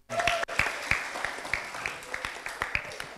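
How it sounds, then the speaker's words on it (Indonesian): Audience applause at an indoor campus talk, steady rhythmic clapping from a small crowd after a brief opening noise, fading slightly toward the end. "tepuk tangan dong untuk Mbak Indah"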